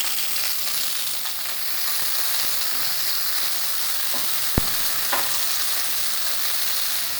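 Sliced onions sizzle and fry steadily in hot coconut oil in a pan after the mustard seeds, a continuous crackling hiss with a few small clicks and a sharp knock of a utensil partway through.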